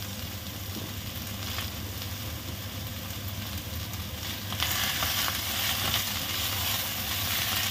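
Cabbage, cauliflower and beans sautéing in a pan, a steady close sizzle with stirring scrapes that grows louder and hissier midway.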